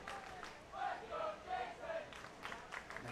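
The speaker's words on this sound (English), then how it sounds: "The crowd comes alive again with Hurd off of first." A crowd at a baseball game cheers and chants in rhythmic bursts, rising and falling in several swells at moderate distance, with no clear talk over it.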